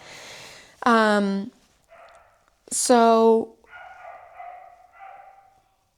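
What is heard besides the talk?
dog barking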